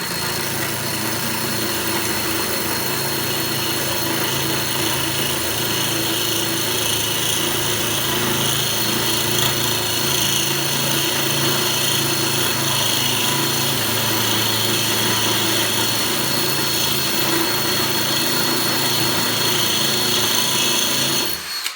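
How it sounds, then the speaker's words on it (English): A high-power drill runs continuously and loudly while slowly boring a hole through aquarium glass for a 45-gallon reef tank, a steady whining drone held for over twenty seconds with no voices. "The trick is to have a high-power drill and go slow. Let the drill do the work."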